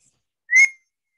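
A man gives one loud, sharp whistle with a bright rising tone lasting about a quarter second, clear and alone against silence, used to call a sheepdog herding sheep back into a field.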